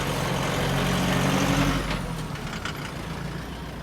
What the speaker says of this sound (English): So now the WanHao bus arrived.